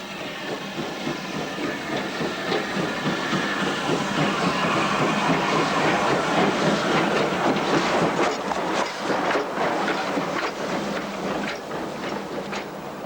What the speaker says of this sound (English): local trains pass in loops along the single-tracked route